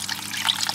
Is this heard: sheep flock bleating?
no